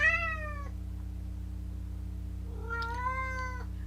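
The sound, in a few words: pet cat meowing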